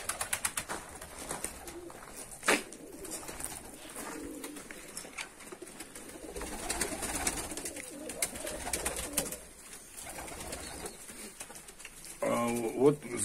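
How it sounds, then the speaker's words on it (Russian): Fighting pigeons, white feather-footed tumblers, cooing inside their loft compartments: repeated low throaty coos with some rustling and wing movement close by, while someone talks throughout. "Зайду и в отсеках сниму для вас голубей"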